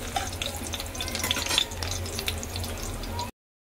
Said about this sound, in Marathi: तेल छान गरम झालेलं आहे, याच्यामध्ये घालूया आपण लसूण।